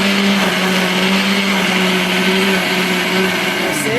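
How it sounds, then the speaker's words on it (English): A kitchen blender whirs steadily at high speed, blending fresh fish red oil stew ingredients, a loud, even motor drone with a constant whine and churning hiss for the whole stretch, no voices. "You add it to your blender."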